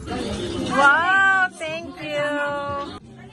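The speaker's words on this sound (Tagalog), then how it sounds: "Aba, at pati pusa nila nang hingi ng cake." A house cat meows repeatedly while begging for cake at a food-laden party, drawn-out tonal cries close by and loud, a short pause between calls.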